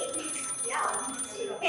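A telephone rings with an incoming call, a repeated bright trilling bell heard through the whole stretch alongside some background voices.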